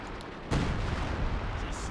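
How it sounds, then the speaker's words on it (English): Incendiary artillery strike in the Company of Heroes 2 video game, a single sharp blast followed by a sustained rumbling roar of fire and battle noise. "We do have some kind of artillery coming in. The incendiary artillery from Spicey Pepper."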